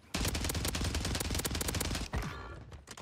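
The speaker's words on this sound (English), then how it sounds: "who just shot at you?" Rapid automatic gunfire from a Call of Duty Warzone match on Rebirth Island, a close, loud burst of fast repeated shots lasting about two seconds before cutting off into quieter game sound.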